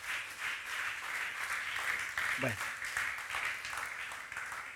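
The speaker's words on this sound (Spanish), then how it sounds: "Dele una ofrenda de palmas al Señor." A church congregation breaks into sustained applause, steady and dense throughout, while a preacher's voice speaks over the clapping.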